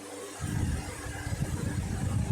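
A Honda K24 engine freshly installed in a Honda EG chassis starts up abruptly and settles into a steady, loud, close idle with a rough, pulsing low rumble after a moment of quiet.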